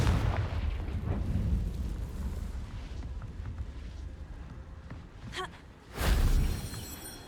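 Fiery Confringo spell explosions in Hogwarts Legacy: a rolling low rumble of blasts at the start, fading into quieter game ambience, followed by a brief crackle and a second sharp boom near the end.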